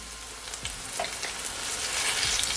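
Ripe plantain slices frying in a pan with a steady close sizzle of hot oil, plus a few soft scrapes and taps as the pieces are turned over, no voices.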